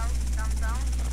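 Helicopter in GTA Vice City, a steady rotor chop with a deep low drone, heard briefly under a voice speaking.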